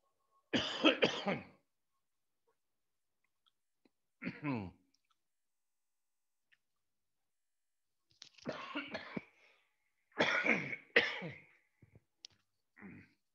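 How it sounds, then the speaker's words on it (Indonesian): A man lecturing on plant breeding coughs in a quiet room, a few separate dry bursts and throat-clearing sounds with silent gaps between, close to the microphone. "mohon maaf, batuk."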